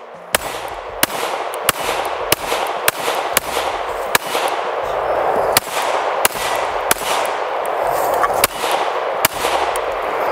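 An FN Five-seveN MRD pistol fires roughly fifteen sharp shots at a steady, moderately quick pace, each a loud crack with a short tail, over faint outdoor background.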